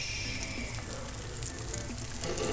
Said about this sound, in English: I'm gonna fry them in a little bit of butter.